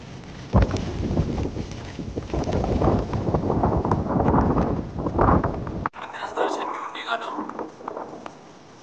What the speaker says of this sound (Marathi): एवढी जबरदस्त हवा आहे जोरात.